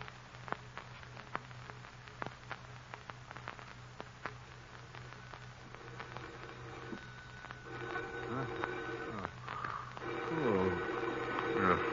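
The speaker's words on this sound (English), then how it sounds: "Phone. Who could be calling at this hour?" Telephone dialing followed by ringing in a 1939 radio drama, a series of short clicks from a rotary dial giving way to a steady ringing tone with louder buzzing toward the end, over low hum.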